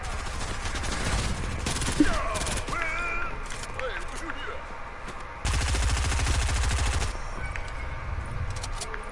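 Rapid bursts of gunfire from a shooting video game crackle in long sustained runs, with a voice talking over the shots in between.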